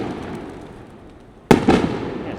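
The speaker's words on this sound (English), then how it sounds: "I've just realized that it's actually just fireworks, kind of fireworks." Fireworks bursting outdoors in El Salvador: a sharp loud bang cracks out of steady background noise, followed moments later by a second rumbling burst and a crackling tail.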